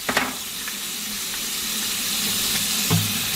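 Water runs into and swirls around a 2-liter plastic bottle as it is rinsed, a steady hissing, sloshing stream with a few small knocks, close by and continuous.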